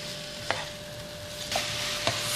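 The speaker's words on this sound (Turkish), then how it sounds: "Arada karıştırarak sebzelerim hafif diri kalacak şekilde soteliyorum" Vegetables sautéing in a pan for a colour-rich salad, a soft steady sizzle with three sharp stirring scrapes and clacks spread across a few seconds, no voices.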